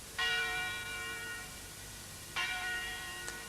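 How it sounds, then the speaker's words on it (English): A deep-toned bell peals twice from a distance, each strike ringing out with a long shimmering decay over faint background hiss. "they both heard from quite a long way off a deep-toned bell pealing in"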